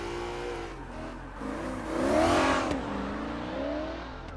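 An engine-swapped E36 drift car in CarX Drift Racing Online revs hard, its tone climbing and falling through a loud swell, then settling into a sustained, wavering whine with no talk.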